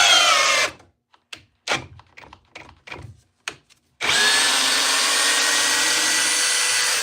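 A power drill drives 4-inch timber lock screws into wood: a loud whining run, then a string of short stuttering bursts and clicks, then another long sustained drive, close up and without speech.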